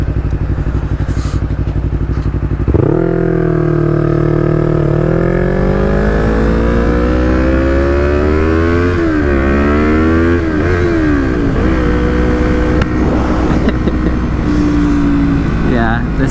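Yamaha MT-03 motorcycle engine revving loudly and close, pitch climbing in a long sweep through several gear changes with brief dips, after a steady idle at the start.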